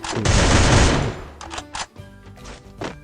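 Rapid automatic gunfire in the Free Fire shooting game: a dense, loud burst of shots for about a second, followed by several separate shorter bursts and single shots spaced out across the rest.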